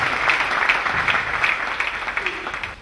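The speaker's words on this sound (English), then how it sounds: "Clap for Jesus Christ." Church congregation clapping for Jesus Christ during a bilingual service, a brisk run of many hands clapping together in a fairly regular rhythm, close and lively for a few seconds.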